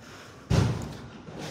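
A bomb thrown at the gate of a house during an attack lands as a single heavy, muffled thud that rings out and fades over about a second, with no voices.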